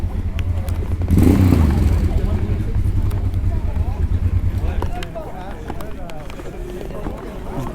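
Motorcycle engines rumble at a motorcycle protest, with a loud low engine drone that swells near the start and then continues steadily, while people talk close by.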